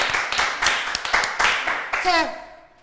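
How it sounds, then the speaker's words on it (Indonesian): A few people clap hands in a handful of quick, uneven bursts close by, ending with a short voice at the close. "Tepuk tangan dong."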